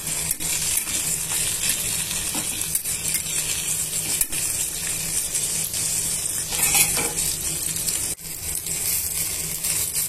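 Onion, green chili and peanuts frying in oil in a pan, a steady close sizzle with scraping stirs and occasional metallic clinks of a utensil, no voices.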